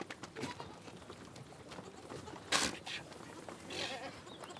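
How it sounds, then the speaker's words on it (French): Goats bleat while nursing their kids in a mountain oasis in Oman, with a few short calls, one sharp cry near the middle, over a busy outdoor background and faint voices. "aide ses chèvres à allaiter leurs petits"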